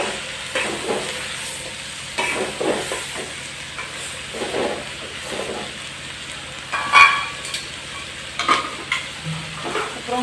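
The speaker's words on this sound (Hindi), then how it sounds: "यार टमाटर मिर्चा फिर भी पा दें सारिया चीजा हम अभी फिर बीज अच्छी तरह फ्राई कर लेंगे" Tomatoes and chilies fry in a pan with a steady sizzle, broken by several bursts of stirring and scraping of the spoon against the metal, close and fairly loud with no speech.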